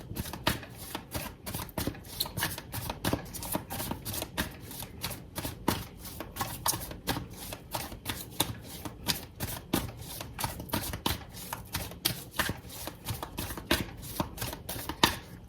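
Tarot cards are shuffled close up in a steady stream of quick, crisp riffling flicks that go on without a break, with no talk.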